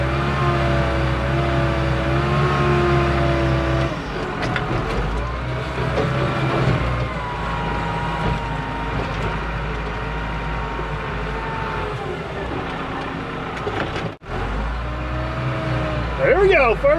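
Heavy diesel machinery rumbles and revs steadily as a loader scoops and dumps material into a new Demco side dump trailer, with a brief thump and dip near the end and a voice talking over the engine.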